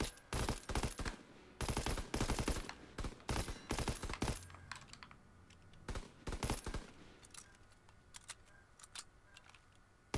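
Bursts of automatic weapon fire crack out in a Call of Duty: WWII shootout challenge, dense volleys at first, then sparser short bursts and single shots, loud and close with a quieter stretch near the end.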